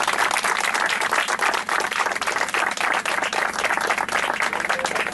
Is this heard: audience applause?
yes